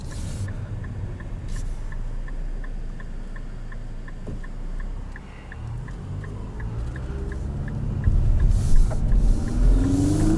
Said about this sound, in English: as I floor the accelerator, you can hear that transmission's going to select the optimal ratios, work its way through them, and provide peak power